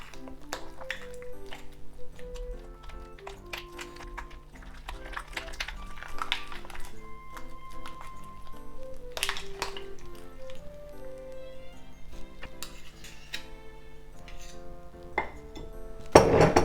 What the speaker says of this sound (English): I'm just going to give it a mix like this with a spoon.